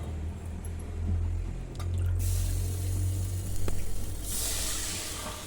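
Water is poured into a pan while sapota kesari is being made, with a steady running splash that brightens and hisses near the end.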